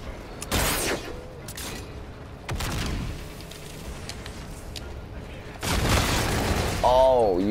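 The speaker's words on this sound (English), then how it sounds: "I shot two shotguns off at you" Two shotgun blasts ring out in Call of Duty: Infinite Warfare, loud broadband bursts about five seconds apart, each trailing into game ambience, with voices talking between them.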